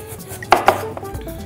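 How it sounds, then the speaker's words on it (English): A kitchen knife chops a vegetable into thin julienne strips on a board, giving two sharp, close cutting knocks about a sixth of a second apart, followed by faint board clatter. "And then we're going to chop this into little julienne strips."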